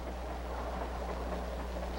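Steady low rumble of a train rolling along the tracks, a constant hum with a faint rattle, no voices.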